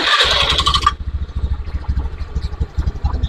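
A close fuel-injected motorcycle engine revs briefly at startup, then settles into an uneven, pulsing idle, its revs failing to drop properly.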